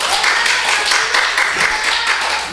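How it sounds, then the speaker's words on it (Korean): A church congregation claps during a Sunday service, producing loud, close, dense applause with a few stray voices mixed in. "박수 한번 쳐줘야 되겠네"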